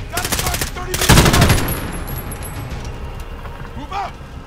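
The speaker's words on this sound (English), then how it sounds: "Got a machine gun, baby." Machine gun fire in Call of Duty: Modern Warfare (2019), a loud rapid burst of shots at the start that tapers off, with quieter game ambience after and a few scattered sounds near the end.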